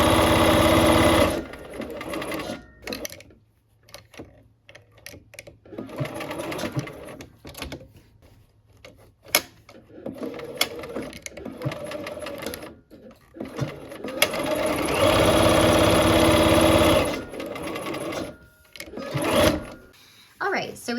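A sewing machine stitching a quilt seam runs in loud bursts of rapid mechanical whirring, stopping and restarting with short back-stitches, while someone talks between and over the runs.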